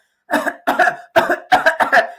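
Five short, sharp coughs come in quick succession, each a brief burst with small gaps between, close and fairly loud.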